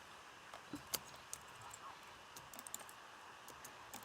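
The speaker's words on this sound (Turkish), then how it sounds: "mouse tıklaması sizlere gelebilir" A new computer mouse clicking during a CSGO bot match, a few faint, sharp, scattered clicks over quiet background hiss.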